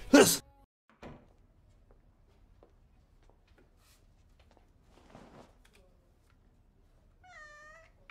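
A cat lets out a single loud, close meow, followed by a soft thunk, faint rustling and light movement, with a brief high electronic tone near the end.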